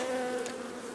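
Honey bees hum in a dense, steady drone at a beekeeping farm's hive, close and continuous with a slight swell in the middle and no speech.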